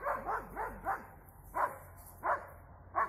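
Dogs at an outdoor training ground bark in a quick burst of several yaps, then single barks spaced about every second or so, moderately distant and somewhat faint.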